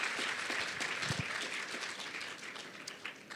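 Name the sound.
audience applause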